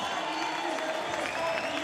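A crowd at a skateboarding contest, a Street League Skateboarding world tour men's final in Los Angeles, keeps up a steady, dense roar of cheering and applause that fills the whole moment without rising or falling.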